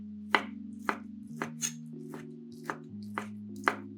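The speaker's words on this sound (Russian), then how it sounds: "Остывшее филе нарезаем сначала на пластинки, а затем каждую пластинку режем кубиками" A knife cuts cooled cooked fillet into slices and then cubes, about eight crisp chops on a board at an irregular steady pace, close and quiet over soft background music, no talk.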